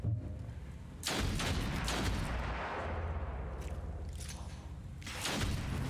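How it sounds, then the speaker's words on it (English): A gunshot in the turn-based game Othercide, fired by the character Modica: a sharp loud blast that rings into a long noisy tail, then a second heavy burst near the end, with no talk. "Triggers a shot from Modica"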